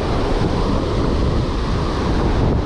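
Ocean surf at a beach jetty on South Padre Island roars in a steady, dense wash of breaking waves, loud and continuous, with wind buffeting the microphone and no voices.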